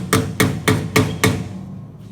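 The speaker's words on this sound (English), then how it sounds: "you hammer that in" Five sharp metallic hammer blows drive a wheel weight onto a tire rim, evenly spaced and close, each ringing briefly before the next, then a quiet tail with no talking.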